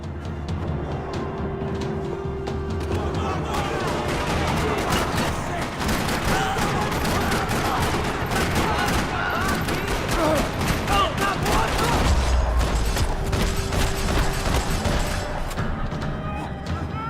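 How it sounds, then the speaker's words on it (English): Sustained gunfire crackles through a parking lot shootout in the video game Max Payne 3, dense bursts and booms layered with music and effects, continuing loud throughout. "Another parking lot rattling with gunfire."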